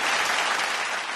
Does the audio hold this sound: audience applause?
yes